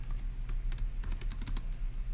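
Rapid, steady keystrokes on a computer keyboard while notes are entered for a logic puzzle, a close, even clatter of many keys with no talking.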